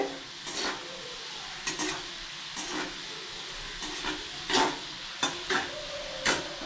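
Onions and chillies fry in a pan under a steady sizzle, punctuated by repeated spatula stirring strokes at a rough, regular rhythm, close by and with no voices.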